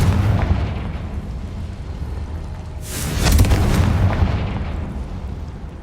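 A Confringo blasting spell going off in Hogwarts Legacy, a sudden bright burst rising out of a steady rumbling game background, its boom lingering for a couple of seconds before easing back down.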